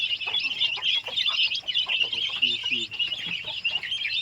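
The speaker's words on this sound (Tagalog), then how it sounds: "Ang dami ng sisiw." Many chicks and chickens clucking and peeping on a mountain farm, a dense, continuous chorus of high cheeps with occasional lower clucks, steady and fairly close throughout.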